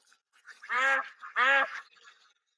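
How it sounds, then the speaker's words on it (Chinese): Ducks on a lotus pond give two loud, drawn-out nasal quacks in quick succession, close by against an otherwise quiet background. "把鸭子全赶我塘里了"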